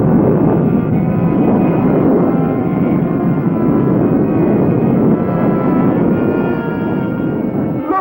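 Cartoon spaceship launching, a continuous loud roaring rush like a rocket engine that holds steady the whole time, slightly thinning toward the end, with no talk.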